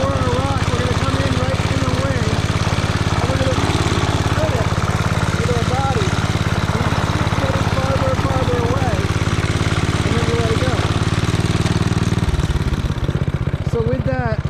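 A Locke Triplex lawn mower's engine runs steadily and loudly while the machine turns in widening circles, a constant mechanical drone with someone talking over it; the engine note changes near the end.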